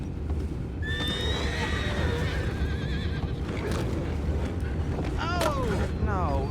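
Horses in the Red Dead Redemption 2 video game neigh and whinny over a dense rumbling bed of hooves and outdoor noise, several loud whinnies rising and falling, one mid-clip and another near the end.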